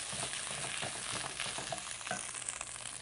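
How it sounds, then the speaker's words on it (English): Onions being stirred in a pan with tomato paste, giving a steady, close crackling sizzle with soft scraping strokes throughout and no talk. "And we'll stir that in. Keeping the onions in the pan, of course."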